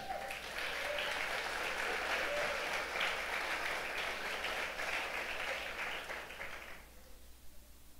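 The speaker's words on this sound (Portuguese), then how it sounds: "Você pode dar uma salva de palmas por isso?" A church congregation gives a round of applause, a dense, steady roar of clapping that holds for several seconds and then cuts off sharply, leaving only faint room noise.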